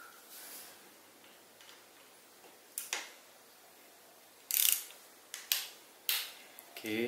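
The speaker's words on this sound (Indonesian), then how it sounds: "untuk proses finishing kita kencangkan pakai kunci torsi" A torque wrench tightens bicycle V-brake bolts to about 5 Nm, giving a series of close, crisp ratcheting clicks in short bursts spaced roughly a second apart against a quiet background.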